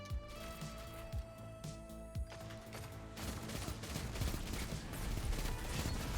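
Rapid hip-fired gunfire in a shooter video game, bursts of shots that grow denser and louder toward the end, close and continuous.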